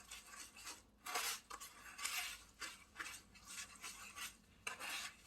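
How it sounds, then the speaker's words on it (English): A spoon stirs a brown sugar lip scrub mixture in a bowl, producing close, quiet gritty scraping strokes in a steady repeated rhythm, with no voices. "It's as simple literally as just stirring this up now."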